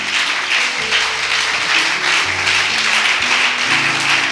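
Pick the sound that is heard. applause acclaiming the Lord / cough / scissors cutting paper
applause acclaiming the Lord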